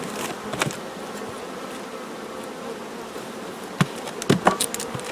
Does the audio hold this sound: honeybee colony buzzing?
yes